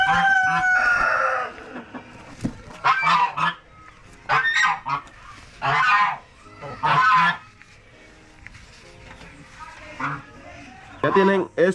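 A giant rooster crows loudly among other chickens, with bursts of clucking and honking calls in between and someone talking close by.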